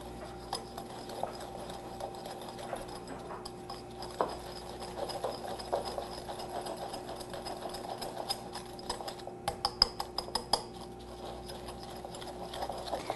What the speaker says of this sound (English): we are going to whisk this up until it gets to be a pale yellow color.